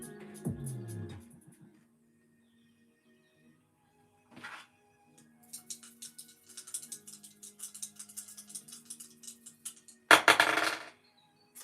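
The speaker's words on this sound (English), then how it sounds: "let's get the dice and dive in" Dice roll across a hard surface in a tarot-style reading, with several scattered clicks and rattles, pauses between them, and a louder clatter near the end.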